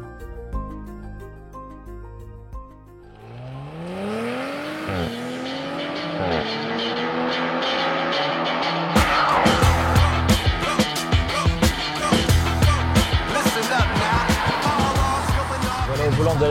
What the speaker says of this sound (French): Voilà au volant de la nouvelle Audi RS4.